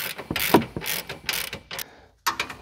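Ratchet wrench loosening the bottom nut of a limiter strap on a Can-Am Maverick Turbo R / Pro R, giving close, crisp bursts of rapid clicking with short pauses between strokes.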